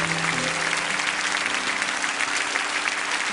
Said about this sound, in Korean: 우리 다시 한 번 더 큰 박수로 격려해 드리기 원합니다